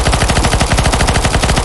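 Automatic gunfire in CS:GO's zombie escape mod on an Oblivion castle map: a loud, fast, unbroken stream of close rapid shots with an even rhythm, filling the whole moment with no talk.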